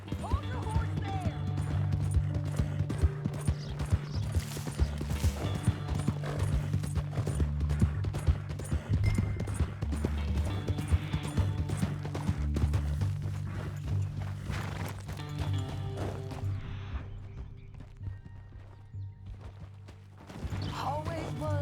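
Horse hooves clip-clop in a steady rhythm over a long stretch in Red Dead Redemption 2, with mechanical clatter and occasional talking in the background.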